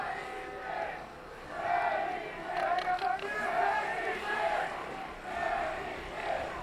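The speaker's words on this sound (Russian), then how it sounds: "Горячо сейчас среди болельщиков Строителя, горячо и громко. Слышно нам прям." Stroitel fans roar and chant in a packed arena during a bandy match against Sibselmash, a loud, continuous crowd swell with rising and falling waves of cheering.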